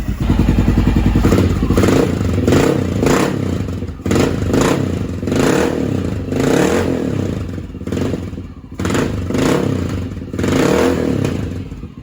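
A Honda XR650L motorcycle fitted with a Mikuni TM40 pumper carburetor runs at a low, rough idle: a loud, close, uneven engine thump that surges and dips, with occasional clattering knocks and no talking.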